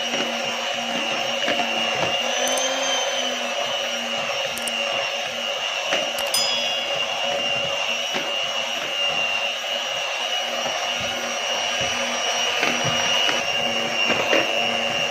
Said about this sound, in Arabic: ونضرب بقى لحد ما قوامه يتقل معانا، ولما الدقيق يتخلط مع المكونات كلها